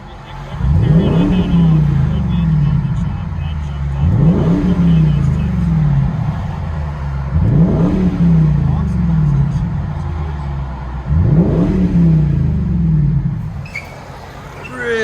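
A 2009 Jaguar XK with a 4.2-litre V8 and a straight-pipe exhaust, X-pipe and mufflers deleted, revs loudly and close up in four repeated sweeps that climb and then fall back to idle.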